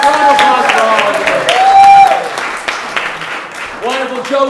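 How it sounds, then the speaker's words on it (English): A studio audience on a game show applauds in a steady wash of clapping, mixed under a host's talking and some music for several seconds. "let's give Joe those round of applause"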